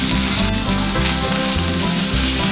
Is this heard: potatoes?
yes